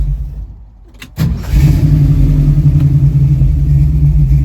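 A Ford Mustang with a carburetor cranks briefly and fires up about a second in, then settles into a loud, steady, rumbling idle close by.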